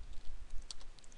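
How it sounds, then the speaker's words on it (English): A computer keyboard is typed on in a brief run of light, quick clicking keystrokes, close and faint, with no voice over it. "all you gotta do is type, when it's done, stop"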